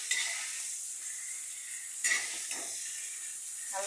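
Ridge gourd peel and green chillies sautéing in a pan give a steady frying sizzle, with a few stirring scrapes and clinks of a utensil against the pan. No one speaks.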